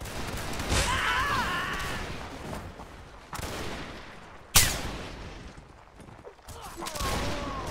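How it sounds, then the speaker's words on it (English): Napoleonic Wars game battle with booming cannon and musket fire, irregular bursts near and far, one sharp loud blast standing out midway, mixed with shouting voices. "Watch out, sir. Artillery."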